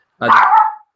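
A dog gives a single loud, close bark, one sharp burst that breaks into the quiet.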